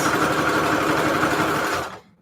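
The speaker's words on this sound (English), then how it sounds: "So Walmart has this sewing machine." A sewing machine stitches paper strips onto craft tags in a steady, continuous whir that runs for about two seconds, then cuts off abruptly, leaving near silence.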